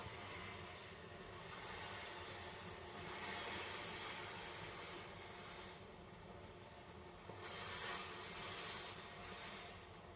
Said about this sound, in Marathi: आता चहा आपला छान असा उकळत आहे